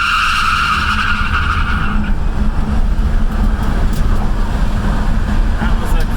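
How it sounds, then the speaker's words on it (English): A Tesla-swapped Plymouth Satellite pulls hard on a concrete street, its tires squealing and scrubbing loudly over a steady rushing drive roar, with the screech strongest in the first two seconds before fading into road noise. "you could probably hear those tires screeching"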